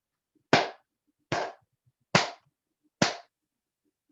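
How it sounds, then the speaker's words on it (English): Four sharp hand claps in an Aikido class, evenly spaced about eight-tenths of a second apart, each crisp and close with a short decay, separated by near silence. "And then we do 4 claps."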